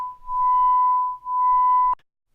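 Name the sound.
two sine tones beating at 1 Hz around 1000.5 Hz carrier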